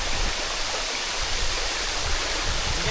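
A waterfall deep in dense forest roars as a loud, steady, broadband rush of falling water, continuous and close throughout with no voices.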